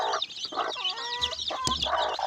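Rhode Island Red and Black Australorp chickens clucking close by on a farm, a run of short throaty clucks and a drawn-out squawking call, no talk over them.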